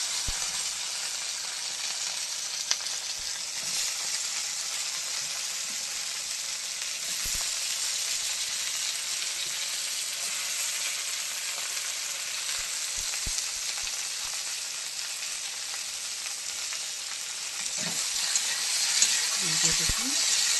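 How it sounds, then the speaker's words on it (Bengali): Sliced okra fries in a pan of hot oil with a continuous, even sizzling hiss, broken by occasional utensil clicks and taps. "ভেন্ডি দিয়ে দিচ্ছি আমি তেলের মধ্যে"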